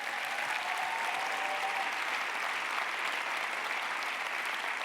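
A large audience at a Horizons party congress in Lille applauds the député Anne-Cécile Violent, a steady, dense wash of clapping throughout.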